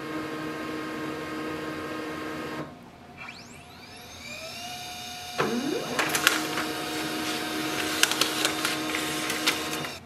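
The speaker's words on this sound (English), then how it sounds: "We'll wait for the printer." A Pantum P2509W printer prints a page, starting with a steady hum, then a brief pause and whirring, followed by mechanical feed sounds with sharp clicks and clacks near the end.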